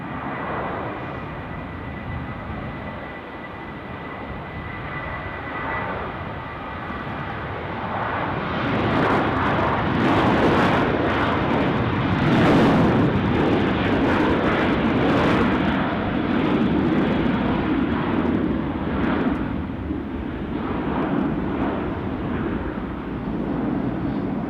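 A Middle East Airlines airliner takes off at Dusseldorf airport, its engine roar rising midway into a loud, gusty, crackling thunder before easing slightly, with no talking.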